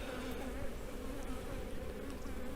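Honey bees buzzing at an open beehive during a brood and colony check before winter, a dense, continuous close hum from many insects.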